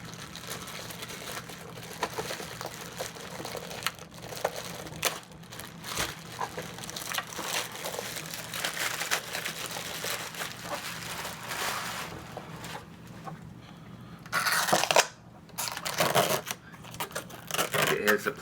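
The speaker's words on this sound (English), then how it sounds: "Let's take it out of the plastic too." Plastic wrapping crinkling and rustling as it is pulled off a Heidi Swapp Minc foil applicator, soft, close, continuous crumpling with a few sharper handling bursts near the end.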